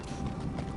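Horse hooves clip-clop in a Game of Thrones video game, a muffled, steady trot running low under a constant ambient wash.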